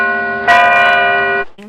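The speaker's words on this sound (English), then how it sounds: "Far away he heard a bell ringing." An old-fashioned doorbell rings as a radio play effect, a sustained bright metallic bell tone struck once more midway, ringing clearly and then cutting off before a brief softer echo.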